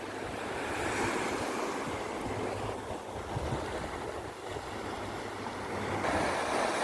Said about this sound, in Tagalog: medyo lumalakas ang hampas ng hangin